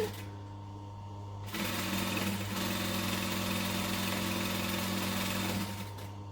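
A sewing machine stitches a fabric tube closed along its circular end, running as a close, continuous buzzing hum for several seconds after a quieter start.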